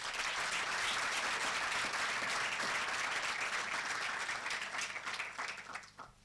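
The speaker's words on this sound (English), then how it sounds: "this deserves a round of applause" An audience applauds at a medical school White Coat Ceremony, a full, steady round of clapping from a large crowd that thins and fades out toward the end.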